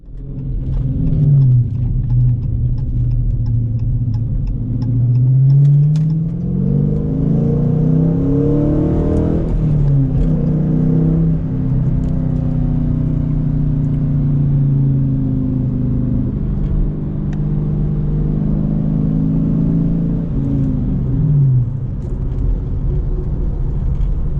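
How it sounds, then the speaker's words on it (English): A Dodge Challenger R/T with a six-speed manual revs through repeated heel-toe rev-matched downshifts, its loud engine note climbing and falling in sweeping blips over a constant rumble. "Do a little heel toe action. Rev matching, we do all that."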